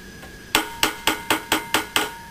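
Hammer tapping a metal HHO dry cell gasket flat on an anvil, seven even, sharp taps in a quick steady rhythm, loud and close over a faint background hum.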